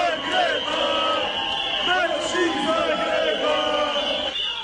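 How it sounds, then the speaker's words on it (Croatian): A crowd on a Zagreb Pride march chants and shouts in a sustained, loud roar of many overlapping voices, with whistling woven through it throughout. "Transparenti, zviždanje i skandiranje središtem Zagreba privuklo je pozornost mnogih"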